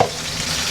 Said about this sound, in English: So chicken is sauteing, pine nuts are toasting.